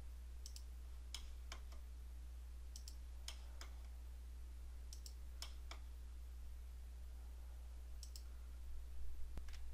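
Computer mouse clicks placing points in Civil 3D come as sharp, close clicks in small clusters spread over several seconds, faint against a quiet room hum, with no talking.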